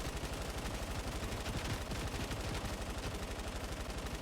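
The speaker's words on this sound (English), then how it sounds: "Shoot everything. Don't let go of the trigger." A Fortnite Save the World weapon fires in a rapid, unbroken automatic burst, dense and continuous for several seconds, with no voices over it.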